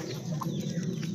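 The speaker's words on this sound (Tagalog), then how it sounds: "Nabalik yung manok eh." A chicken clucking softly nearby, a short burst of low throaty clucks over a steady background hum.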